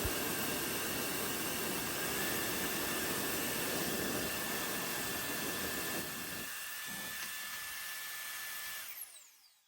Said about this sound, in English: Turning this thing on is surprisingly quiet and very, very strong.